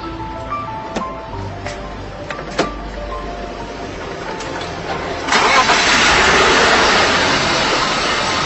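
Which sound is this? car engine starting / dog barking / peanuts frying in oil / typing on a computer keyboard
car engine starting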